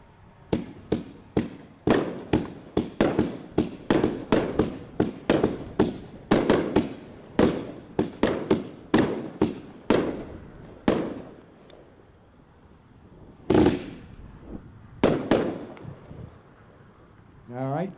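Candy Bang fireworks at a fireworks dealer show, a rapid string of sharp outdoor bangs and cracks going off one after another, then a few louder scattered blasts after a brief pause, with occasional voices in between.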